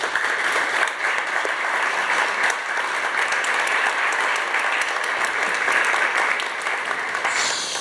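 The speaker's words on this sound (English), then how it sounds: "Please give them a round of applause" A conference audience at a cultural diplomacy event bursts into sustained, dense applause, loud and even throughout with many hands clapping together.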